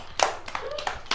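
A few hand claps during a Telugu party game, sharp separate slaps at an uneven pace, close by, with a voice and other chatter alongside.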